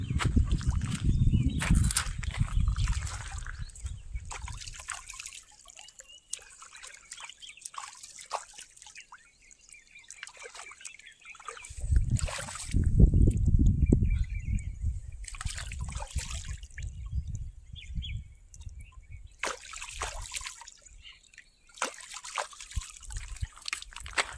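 River water splashing and trickling while chicken is washed by hand outdoors, bursts of sloshing and dribbling separated by quieter running-water stretches, close by with no talk.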